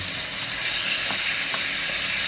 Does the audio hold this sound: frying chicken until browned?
yes